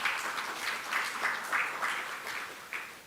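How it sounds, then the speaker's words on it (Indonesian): Audience applause at an Indonesian event on Islamic finance and pesantren, a faint, steady patter of many hands clapping with rhythmic swells, heard at a distance. "tepuk tangan"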